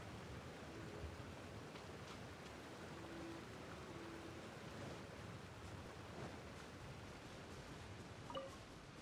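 A video game waterfall gives off a continuous broadband rush of falling water. The sound is even and unbroken for the whole stretch, fairly soft, with no voices.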